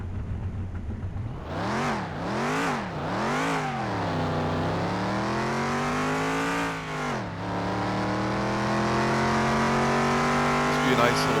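Pontiac GTO engine in the video game Car Mechanic Simulator, loud and close, revving up and down three times in quick succession, then a long climbing acceleration with a gear change before droning on steadily.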